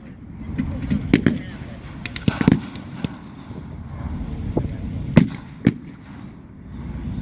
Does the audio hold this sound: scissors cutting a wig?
no